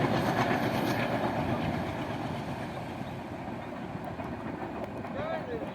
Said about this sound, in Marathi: काय जे बघायचं ट्रेन सुद्धा जाते